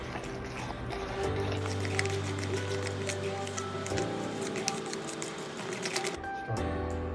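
Cake batter being stirred with vanilla essence, fresh orange juice and orange zest, giving soft wet squishing and clicking scrapes against the bowl over a steady low motor hum, close and continuous with no talking.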